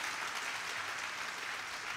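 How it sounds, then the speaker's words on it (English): A church congregation claps together in a steady wash of applause, faint and even, with no voices standing out. "Let us all clap."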